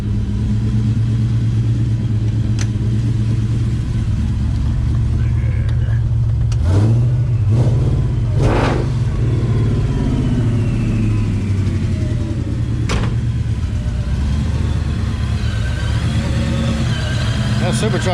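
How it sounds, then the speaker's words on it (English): Supercharged car running on E85 fuel idles with a loud, steady low rumble and a few brief revs, with people talking over it. "That supercharger is definitely a lot louder."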